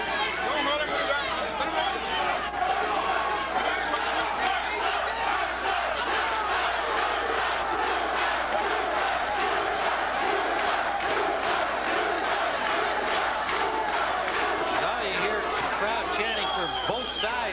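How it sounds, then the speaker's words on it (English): A boxing arena crowd at a Ray Mercer vs Bert Cooper heavyweight fight roars steadily for the whole stretch, a dense, loud wall of cheering and shouting with rhythmic chanting pulses. "there are some Philly folks up here cheering for Cooper for sure"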